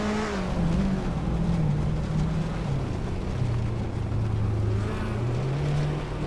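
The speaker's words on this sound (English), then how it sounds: "Double is leading in a 1993 Lancia Delta HF Integral, a classic rally icon known for its agility." A 1993 Lancia Delta HF Integrale rally car in a racing game, its engine a steady, fairly loud drone whose pitch rises and falls as it speeds through the course, with no talk.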